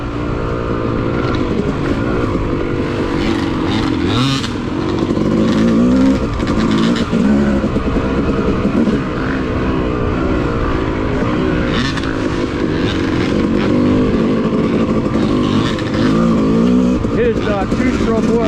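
A two-stroke off-road motorcycle rides a wooded OHV trail, its engine buzzing continuously and loudly with revving rises and falls. A voice talks over the engine noise.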